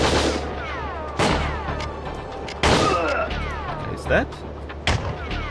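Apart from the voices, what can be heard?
enemy gunfire in Operation WinBack PS2 video game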